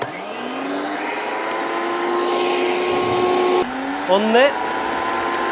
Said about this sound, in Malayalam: 750 വാട്ട്സിൻ്റെ ഒരു മിക്സിയാണ്